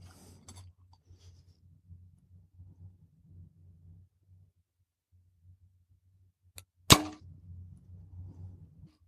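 One crisp snap of an arrow leaving a compound bow, loud and close after a quiet stretch with a faint low hum and soft handling clicks.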